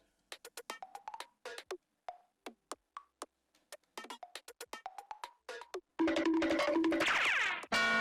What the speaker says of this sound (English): So the percussions alone sound like this.